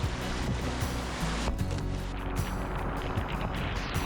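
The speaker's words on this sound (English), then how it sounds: "Freaking pouring." Heavy rain pouring onto a river during a kayak camping trip, a dense, steady roaring wash of water with a few brief bumps, close and loud, no voices.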